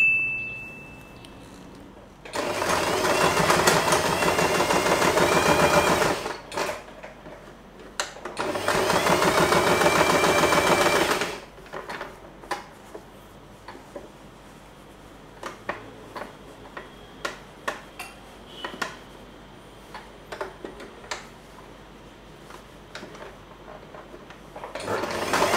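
A sewing machine stitches folded fabric for a two-tone bow made from scraps, running in two steady bursts of several seconds each, followed by lighter clicks and ticks of handling the machine and fabric.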